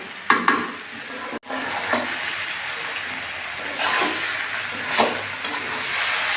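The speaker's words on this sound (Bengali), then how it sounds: "আর একটু ভাজা ভাজা করবো" Taro stolons (kochur loti) fry with a continuous sizzle while a utensil scrapes and stirs the pan in irregular bursts, close and fairly loud.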